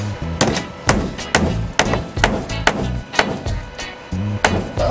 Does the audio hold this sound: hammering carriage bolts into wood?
yes